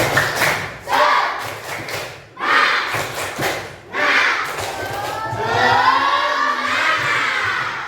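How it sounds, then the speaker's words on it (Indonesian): A group of children chant loudly in unison, with rhythmic claps and thumps in short bursts, building into a cheer at the end. "untuk memulai kita tepuk semangat dulu"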